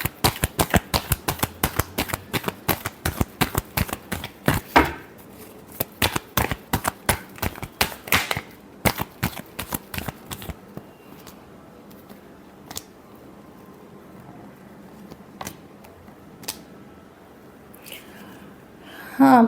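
Tarot cards are shuffled in a rapid riffling flurry of dense crisp clicks for about ten seconds, then a few sparse card taps and light handling sounds follow at close range.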